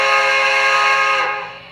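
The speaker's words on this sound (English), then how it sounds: "you can just blow the smoking whistle" An MTH Premier B&O URSA heavy Pacific model steam locomotive sounds its whistle in one sustained, bright chord that holds steady and then fades away, close and fairly loud.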